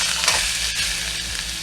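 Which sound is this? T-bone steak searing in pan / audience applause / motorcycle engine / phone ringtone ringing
T-bone steak searing in pan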